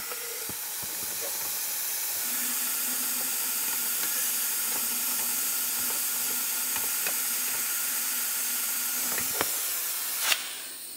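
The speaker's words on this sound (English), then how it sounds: "I've got my fluid vacuum." A fluid vacuum draws Mercon ATF power steering fluid from the reservoir of a 1998-2002 Lincoln Navigator, making a steady, even hiss for about nine seconds that ends with a short clunk.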